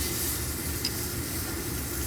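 Meat searing in a hot pan to form a crust: a dense, steady hiss of sizzling fat, close and loud throughout, one brief faint high tick partway through, no voices.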